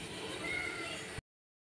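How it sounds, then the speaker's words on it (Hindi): A single drawn-out cat meow sounds faint and close, over a steady background hiss, before cutting off abruptly into silence. "म्याऊं म्याऊं कर रहा है कब से"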